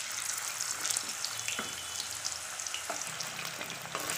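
Potatoes dropped into hot oil in a pan for a chicken curry hiss in a steady, close sizzle, with a few brief clinks and splashes along the way.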